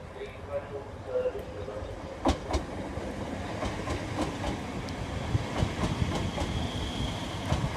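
A train rolls through Peterborough station, a steady rumble with rhythmic wheel clicks and a few sharper clanks over the rails, moderately close, while people talk faintly in the background.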